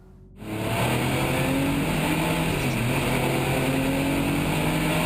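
A 1984 Porsche 962 race car on track at Charlotte Motor Speedway, a sudden loud, sustained engine roar that rises in and holds at high revs after a brief quiet start.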